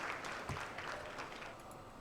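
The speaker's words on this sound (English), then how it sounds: "Golf clap." Light, scattered golf-clap style applause from a small audience during the Chandrayaan-3 lunar landing attempt broadcast, faint and distant, a few soft claps spread over two seconds.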